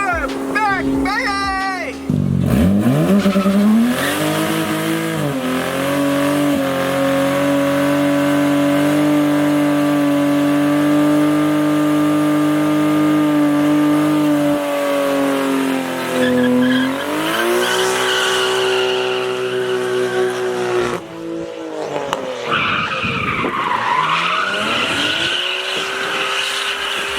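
A car with a 1JZ engine does burnouts, its engine roaring at high revs with rising and falling pitch while tires squeal and skid continuously, loud and close.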